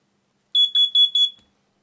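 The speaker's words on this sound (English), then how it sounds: "the test button is still indicating that the alarm is fully functional" Carbon monoxide alarm sounding its test-button beep with the sensor hole covered: four loud, sharp, evenly spaced high-pitched chirps in quick succession, close to the mic, then silence.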